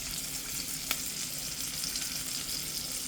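Pork frying in a scoop of bacon grease, a steady close sizzle with one brief sharp pop partway through.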